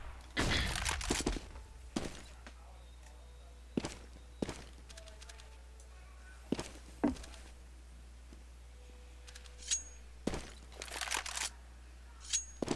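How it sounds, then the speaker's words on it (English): A flashbang grenade thrown in the video game CS:GO, heard as sharp thuds and clanks with footstep-like taps scattered over a quiet background hum, ending in a louder cluster of impacts. "Grenade out. I am throwing a flashbang."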